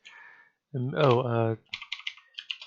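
A short stretch of voice comes first, followed by a quick run of close, distinct computer keyboard keystrokes tapping in an uneven rhythm.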